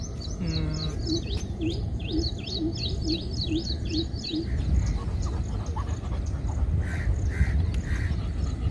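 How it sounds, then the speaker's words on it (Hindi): A greater coucal gives a steady series of deep, hollow booming calls, about eight evenly spaced notes, over a constant outdoor hiss, with thin chirps from other birds above and faint rustling. "लेकिन वो है भारद्वाज द ग्रेटर कूकल नाम है इसका"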